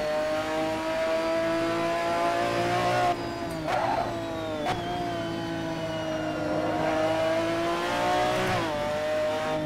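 McLaren F1 GTR race car in Assetto Corsa at Imola, its engine a loud, close, sustained tonal drone that holds steady with small pitch shifts and brief dips when shifting gear.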